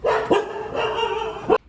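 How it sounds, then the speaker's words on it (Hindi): Pet dogs bark at home while a family dinner party is being prepared: a few sharp, close barks broken by a drawn-out whining yowl, ending abruptly. "मेरे बदतमीज बच्चे भौंक रहे हैं"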